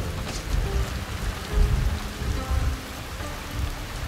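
Rain falls steadily in the feudal Japan stealth game Shadow Tactics: Blades of the Shogun, a dense patter on surfaces with soft low rumbles swelling now and then, alone without speech.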